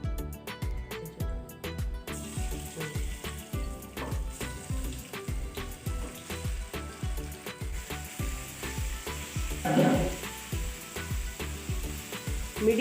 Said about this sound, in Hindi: अब हम इसको पैन में फ्राई करेंगे।